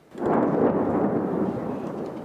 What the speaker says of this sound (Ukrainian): Постійно чуєш вибухи, постійно якісь прильоти, е, залпи з е, РСЗО